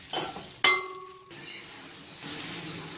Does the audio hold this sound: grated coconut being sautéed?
yes